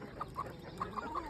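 Hens cluck on a poultry farm, several short clucks spaced through the moment over a faint background murmur, at moderate distance.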